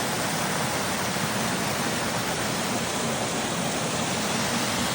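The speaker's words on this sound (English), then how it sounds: "purpose built with the granite, creating a really lovely little waterfall" A small waterfall spilling over purpose-built granite on a farm in July gives a steady, close, unbroken rush of falling water that holds an even level throughout, with no voices.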